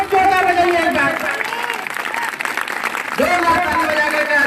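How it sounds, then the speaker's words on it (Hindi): An audience at a public address applauding loudly in a sustained wash of clapping, with a voice talking over it throughout. "जोरदार बजाइए एक बार"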